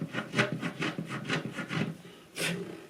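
A countersink is spun back and forth by hand in a bridge pin hole on a 1938 Martin D-18 guitar. It gives close, rhythmic wooden rasping strokes, about nine in quick succession, with no voices.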